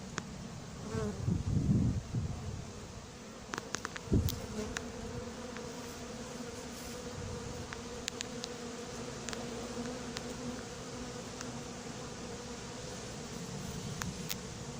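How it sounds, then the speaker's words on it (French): A hornet buzzing inside a 6 mm mesh anti-hornet tent at an apiary, a continuous insect drone that swells loudly near the start and then hums on steadily, close, with faint ticks and no talking. "Allez, petit frelon, pose-toi, traverse, lâche ton abeille."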